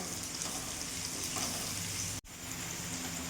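Potatoes seasoned with salt and turmeric fry in a pan, giving a quiet, even crackling sizzle that runs steadily, with one brief dropout near the end.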